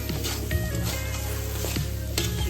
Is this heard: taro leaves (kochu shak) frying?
yes